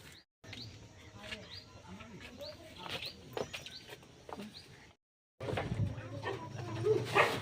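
A dog barks a few times close by while people talk nearby, with light bird chirping in the background.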